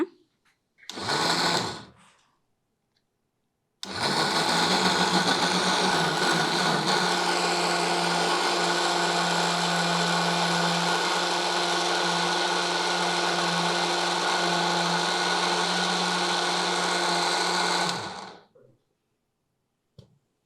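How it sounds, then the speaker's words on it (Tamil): A mixer grinder runs for about fourteen seconds, grinding pearl millet, coconut and cardamom into a fine paste, a loud close steady whine, preceded by a short one-second burst of the same motor. "இப்போ இதை நல்லா நைஸாக அரைச்சி எடுத்துக்கலாம் நம்ம"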